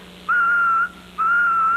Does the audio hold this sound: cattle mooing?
no